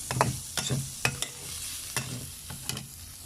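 Maggi noodles and pork stir-fried in hot oil in a pan: a steady sizzle under repeated sharp scraping strokes of a spatula, several distinct clanks spaced through the stretch, close and without talk.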